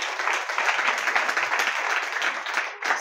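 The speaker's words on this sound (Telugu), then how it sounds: "కొడు చప్పట్లు గట్టిగా." A church congregation claps and applauds loudly together, a dense, sustained rattle of many hands filling the hall for about three seconds with no voices over it.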